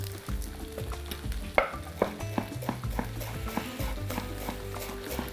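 Stuffed-pepper filling with fresh dill stirred in a hot pan, a soft sizzle beneath repeated close scrapes and knocks of the spoon against the pan.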